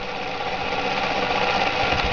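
A Bedini SSG motor's rotor spins steadily at over 900 RPM, giving a continuous, fairly loud mechanical whir and buzz with a fine rapid rattle, close by and with no talking.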